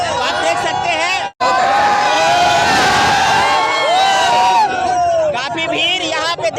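A crowd of young picnickers celebrating New Year at Raj Palace, a loud continuous hubbub of voices, shouting and cheering close by, with a brief drop to near silence early on.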